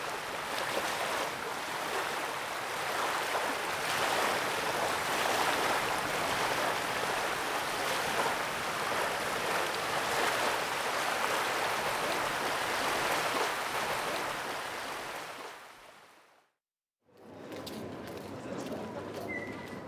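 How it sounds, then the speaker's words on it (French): A chain of waterfalls tucked into lush greenery on the Dalmatian islands gives off a steady, loud broadband roar of rushing water, which cuts out briefly near the end and then resumes. "nous découvrons un chapelet de cascades caché au cœur d'un écrin de verdure"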